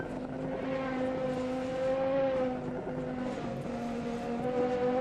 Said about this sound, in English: Excellent sounding car,